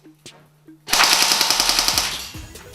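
An SRC M4 Gen 3 Pro AEG airsoft gun fires a loud, close full-auto burst of rapid mechanical clatter, preceded by a few quiet clicks and handling noises before the sustained rattling volley.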